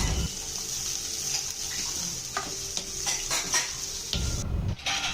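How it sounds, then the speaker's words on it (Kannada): Four green chillies, a finely chopped onion and curry leaves frying in oil, a steady close sizzle broken by spoon-on-pan scrapes and clinks, with a louder clattering burst near the end and no talking. "ಎಣ್ಣೆಗೆ 4 ಹಸಿಮೆಣಸಿನ್ಕಾಯಿ, ಒಂದು ಸಣ್ಣಗೆ ಹೆಚ್ಚಿರೋಂಥ ಈರುಳ್ಳಿ, ಸ್ವಲ್ಪ ಕರಿಬೇವು, ಇದೆಲ್ಲದನ್ನು ಫ್ರೈ ಮಾಡೋಣ."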